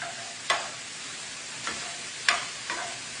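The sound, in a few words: andouille sausage frying and being stirred in a pan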